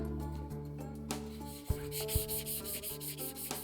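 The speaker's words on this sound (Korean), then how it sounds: "오칠을 하기 전 먼저 철편의 표면을 사포로 매끄럽게 다듬는다." Sandpaper smooths the surface of a small laser-cut iron plate for a replica horse armor piece, rasping in short strokes with a few sharp scrapes and knocks, close and fairly quiet against a faint tonal background.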